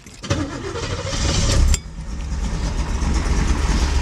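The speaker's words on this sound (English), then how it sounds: "it's got that crispy muscle car sound that we all love" A 1969 Camaro Z11 pace car muscle car cranks and fires up, the engine catching after a brief starter whir and settling into a loud, steady idle rumble close by.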